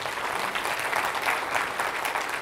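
Audience members clap together at a church gathering, a steady patter of applause at moderate distance that swells slightly midway.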